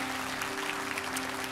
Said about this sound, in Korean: 이 시간 우리와 함께 하신 하나님께 다시 한번 박수로 영광 돌리겠습니다